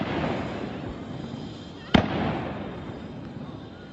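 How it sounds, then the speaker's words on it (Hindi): A single sharp gunshot crack from the Pahalgam terrorist attack in Kashmir cuts through steady outdoor background noise and murmuring, followed by a brief echoing tail. "आप गोलियों की गूंज सुनिए।"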